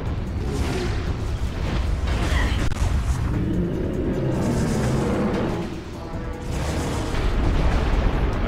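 Explosion in the video game Metroid Prime 3: Corruption, a loud, dense booming roar that runs continuously with rumbling bursts, briefly easing midway before surging again.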